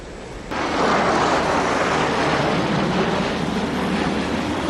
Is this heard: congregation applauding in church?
no